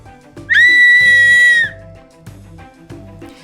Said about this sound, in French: Et le jouet est un sifflet.